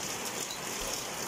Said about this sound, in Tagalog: kasi lakas pang ulan ngayon dito.